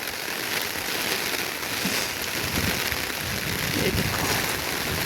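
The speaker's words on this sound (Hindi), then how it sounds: "आज बहुत अच्छी बारिश हो रही है" Heavy monsoon rain falls steadily on the first day of Sawan, making a dense, continuous hiss of drops hitting surfaces at even loudness. A faint voice can be heard underneath.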